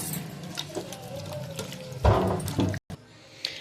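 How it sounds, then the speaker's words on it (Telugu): Water pours into a pot to boil for dum rice in a chicken biryani, running as a steady close splash with a louder gush near the end, then a brief cutoff. "వాటర్ పెట్టుకున్నాము, వాటర్ కాగుతుంది."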